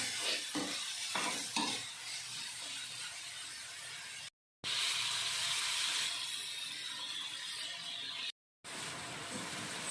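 Pork with holy basil stir-fried in a pan: steady close sizzling and frying with scraping stirs and a few sharp clanks, broken by two brief silences.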